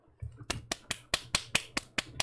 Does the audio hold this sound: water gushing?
no